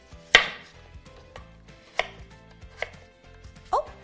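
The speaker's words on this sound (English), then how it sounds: "So we want to actually cut it in slices," A kitchen knife cuts potatoes into 1 cm slices on a board, giving four sharp, separate chops about a second apart, up close with no talking.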